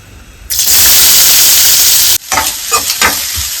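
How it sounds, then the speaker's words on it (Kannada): A cup of onion dropped into three or four tablespoons of hot oil bursts into a loud, close hissing sizzle, then settles into softer crackling with stirring scrapes. "ಸ್ವಲ್ಪ ಲೈಟ್ ಫ್ರೈ ಮಾಡ್ಕೊಳ್ಳೋಣ, ಗೋಲ್ಡನ್ ಬ್ರೌನ್ ಏನು ಬೇಡ."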